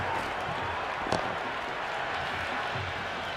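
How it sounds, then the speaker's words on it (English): Cricket stadium crowd in an India versus Pakistan T20 match roaring after a four to the boundary, a steady dense wash of cheering with a brief sharp spike near the start. "There's an almost tangible fervour throughout the crowd at the moment."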